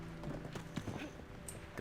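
Horse hooves clip-clop in the online game Black Desert Online, a short quiet run of soft, rhythmic hoofbeats at walking pace with faint background ambience.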